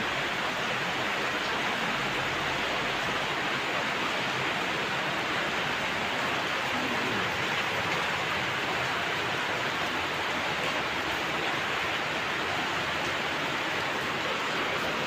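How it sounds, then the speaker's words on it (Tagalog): Steady, dense hiss of morning rain falling continuously, with no breaks or voices, a broad wash of sound filling the whole stretch. "maulan na, oh, ulan."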